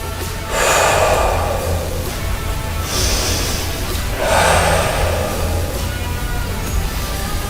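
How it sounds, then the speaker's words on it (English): Deep, slow breaths during an exercise cool-down after a weights session, two or three long airy inhales and exhales rising over a steady low background hum, close to the microphone. "Good deep breaths. Starting to slow our heart rate."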